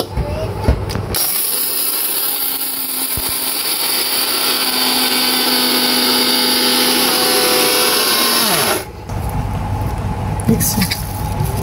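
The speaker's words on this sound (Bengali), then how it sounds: "ব্লেন্ডারে চাল ভাজা, বাদাম ভাজা, ভুট্টা, কাঁঠালের বিচি সব ছাতু করা যায়।" A blender grinds roasted rice, nuts, corn and jackfruit seeds into powder, a loud steady whirring roar running for about eight seconds before it cuts out, with clattering and shaking on either side.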